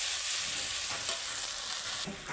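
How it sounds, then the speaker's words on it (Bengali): Ginger-garlic paste with onion and tomato sizzles in a pan, a steady frying hiss broken by a few stirring scrapes, close and fairly quiet. "এবারে এতে আমি আদা বাটা রসুন বাটা দিয়ে দেবো, দিয়ে আবার এইটাকে ভালো করে কষবো"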